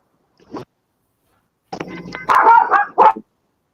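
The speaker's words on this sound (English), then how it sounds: "You got dogs too?" Dogs bark and yip a few times nearby, first with one short faint sound and then with a louder cluster of barks near the end.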